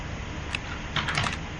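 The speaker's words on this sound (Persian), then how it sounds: "این چیزی که اینجا میبینی ترمیناله برای تایپ کردن کامنداست." Commands are typed on the terminal in the video game Lethal Company: a brief run of crisp computer-keyboard keystrokes in quick succession, near and fairly clear, with no voices.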